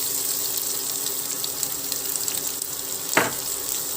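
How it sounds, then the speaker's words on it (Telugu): Onions frying in a pan for Punjabi-style green peas masala, a steady, hissing sizzle throughout with one brief scrape or clatter near the end, heard close and without speech. "ఇప్పుడు ఉల్లిపాయలు వేసేస్తాము."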